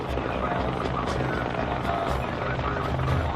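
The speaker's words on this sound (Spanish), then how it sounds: "llega el fuego de apoyo de los helicópteros Cobra y Apache para los tanques M1 que están en tierra" Cobra and Apache attack helicopters fly in at night to support M1 tanks in battle, a loud, continuous rotor roar with steady thudding blade beats.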